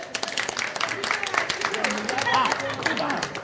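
A hall audience at a Hindi-language public talk claps in a dense, uneven burst, and speaking voices mingle with the clapping throughout.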